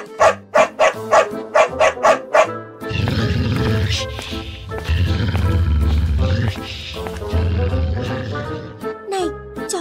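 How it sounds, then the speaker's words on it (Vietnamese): A cartoon Tibetan mastiff barks in a rapid run of sharp, loud barks, then lets out a long, deep growling roar, with a few more barks at the end. "Đấy là chó ngao Tây Tạng đấy, hung dữ lắm"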